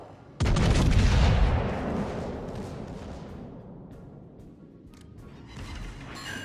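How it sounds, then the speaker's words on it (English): Battleship secondary guns fire in World of Warships: Legends, opening with a loud, heavy blast that rolls into a long rumbling decay. Fainter sharp reports crackle in the background. "Shannon's secondaries are starting to fire on the Massa"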